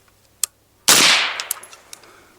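A single sharp 5.56 rifle shot from a gun fitted with an Exigent Defense Fireteam suppressor cracks loudly after a small click, then decays with a short tail and a few faint clicks of the action.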